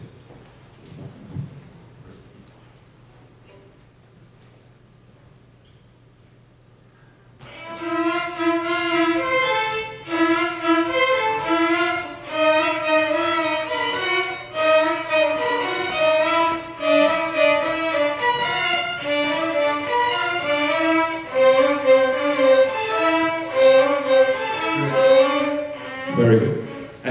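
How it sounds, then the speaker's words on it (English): Youth symphony orchestra violins carry a bright melody over a syncopated rhythm, starting after a quiet opening and continuing loud and full with short, punchy phrases and accents. "on top of that, the violins play this."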